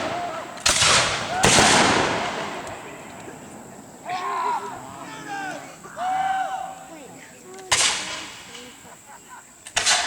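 Musket volley at a Fort Henry reenactment with some powder misfiring: a few loud, sharp cracks spaced unevenly across the span, with crowd voices and murmuring underneath.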